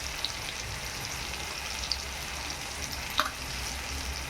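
Spices for dal kanda sauté in a hot pan with a steady, dense sizzle throughout, broken by a few faint clicks and pops, heard close with no talking.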